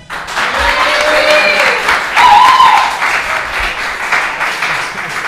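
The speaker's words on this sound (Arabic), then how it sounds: "صفقوا بزاف" Audience applause fills a college battle event in Casablanca, steady broadband clapping throughout at a loud level, rising briefly mid-way, with faint whistles or cheers mixed in.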